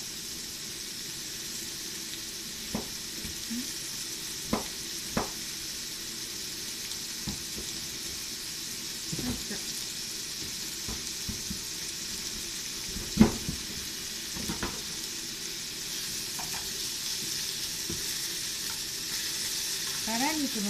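Pork belly slices fry in a dry pan without oil, giving a steady close sizzle with occasional sharp pops and crackles throughout and no talking.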